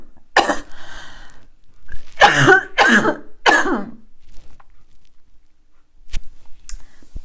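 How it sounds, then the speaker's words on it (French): Several sharp, harsh coughs from a woman in a quiet room, a single burst followed by three close bursts, then silence with faint small sounds. "Ma petite toux en témoigne."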